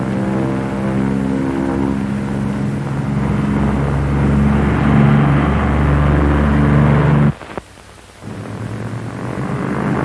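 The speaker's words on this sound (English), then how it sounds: "Tony, simulate single-engine failure on takeoff. Okay, Milo. I'll cut the right engine." Lockheed P-38 twin-engine aircraft roaring loudly during takeoff with the right engine cut. A steady droning engine note holds, then abruptly drops away to near quiet before power builds again.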